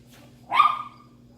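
A single sharp demand bark from a dog during an indoor obedience lesson on molded sits, one short loud burst standing out against a quiet room hum.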